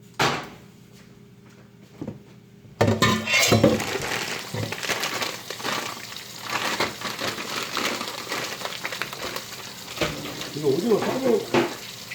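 Food sizzles and crackles in a hot pan with olive oil, with scraping stirring noises, starting after a quiet moment; a voice briefly murmurs near the end.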